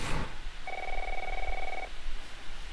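A single electronic telephone ring in The Last of Us video game, a steady tone lasting about a second, heard faintly over low background hiss after a brief noise at the start.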